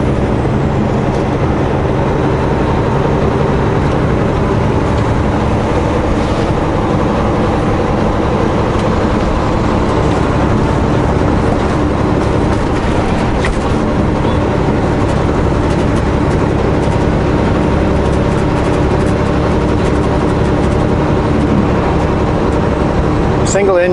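An empty Canadian Pacific freight train led by a single six-axle locomotive, CP 8700, rolls past with a continuous loud rumble and rattle of cars and wheels for the whole stretch.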